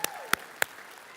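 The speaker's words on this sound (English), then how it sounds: "Could you applaud Will in the back room?" A few sharp, separate hand claps ring out in a room during a church session, three distinct claps spaced about a third of a second apart over a quiet background.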